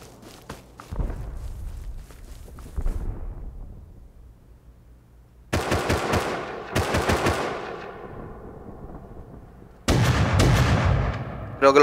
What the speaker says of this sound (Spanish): Le oigo los tiros